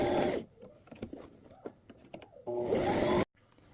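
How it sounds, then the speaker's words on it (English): A sewing machine stitches fabric for a bingo bag in two short bursts of steady mechanical whirring, fairly close, with quiet handling and fabric movement in the pause between them. "and then I'm going to continue stitching."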